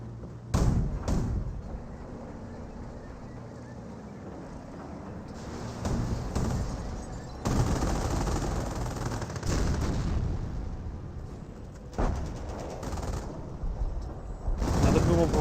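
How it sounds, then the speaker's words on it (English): Sector artillery barrage in Company of Heroes, with shells blowing up an engineer and detonating a fuel tank: repeated heavy thuds and booms over sustained battle noise, with talk running throughout. "Sector artillery running on in. Blows up that engineer and detonates the fuel tank."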